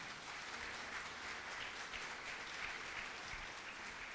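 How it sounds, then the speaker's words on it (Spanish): A church congregation applauds, producing a steady, even wash of clapping that fills the room, heard at a moderate distance with no voices over it. "Denle el aplauso al Señor por eso"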